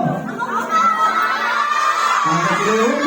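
A crowd of children shout and cheer loudly together at a kids' birthday party, a sustained excited chorus of voices rising and falling up close.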